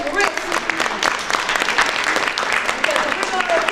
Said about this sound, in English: can we give him a round of applause for taking the risk?